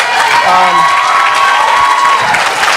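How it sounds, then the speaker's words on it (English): A lively crowd cheering and whooping, with shouts rising above a steady wash of noise, loud and close throughout. "If we could all just give a round of applause for them."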